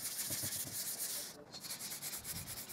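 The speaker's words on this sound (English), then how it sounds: "then I wet sanded again at 400 grit," Rhythmic rubbing strokes of wet sanding varnish with 400-grit paper on a vintage display cabinet, close and soft, with a brief pause midway before the back-and-forth scraping resumes.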